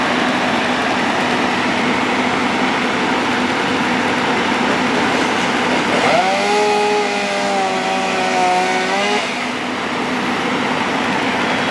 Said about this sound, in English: we're gonna see some chainsaw action